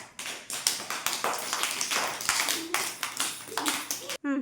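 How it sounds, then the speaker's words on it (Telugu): A group of children at an anganwadi clapping together in a quick, irregular burst of close, loud claps, with voices calling out briefly under the applause. "Very good. క్లాప్స్."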